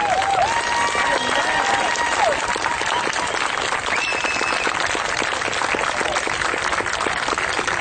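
An audience at a Chicago speaking event bursts into sustained, dense applause that holds steady throughout, with faint crowd voices mixed in.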